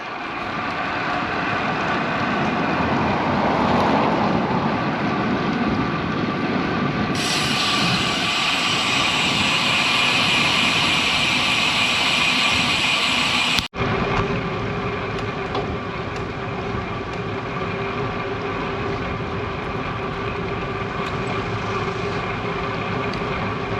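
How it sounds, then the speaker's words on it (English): Dirt bikes ride past on Kingwood streets on a hot day, their engines a loud, steady, close drone that holds for the whole stretch, with a brief higher whine partway through and no talking. "I thought they were on regular bikes, BMX bikes, but they're on dirt bikes"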